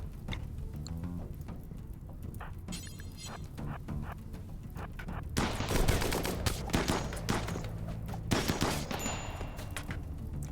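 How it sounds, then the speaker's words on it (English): A defensive turret fires in the RimWorld video game, a crackle of rapid gunshots and bursts that builds into a dense, loud volley midway, with shattering impacts mixed in. "I forgot the turret is still here."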